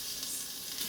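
Top round roast cut into seasoned cubes hits the hot pot of a preheated Instant Pot Duo Evo Plus, giving a steady close sizzle and crackle with no talk, lasting under a second.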